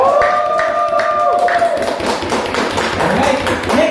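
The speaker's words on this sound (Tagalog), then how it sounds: "Isa ka malupit na palakpak!" An audience at a Filipino business mindset seminar breaks into a dense burst of clapping. It follows a short spoken line and fills the rest of the clip loudly.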